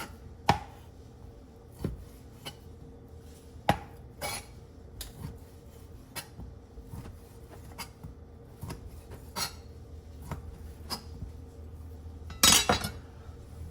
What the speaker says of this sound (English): I'm just going to get this diced in pretty small pieces